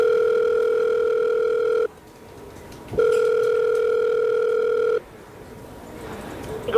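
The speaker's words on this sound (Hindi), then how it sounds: "1031 पे हम डायल करके बात करने की कोशिश करते हैं कि आखिर ये हेल्पलाइन नंबर किस तरीके" Ringback tone on a phone call to the 1031 government helpline in Punjab, two long steady beeps separated by a pause, loud and clear with no talking.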